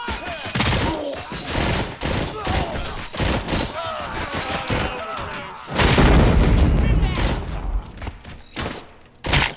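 Heavy gunfire in RoboCop: Rogue City, a series of loud, close shots and booming impacts in uneven bursts, swelling into a sustained barrage midway, with a voice talking in between.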